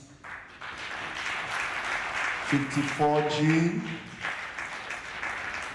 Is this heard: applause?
yes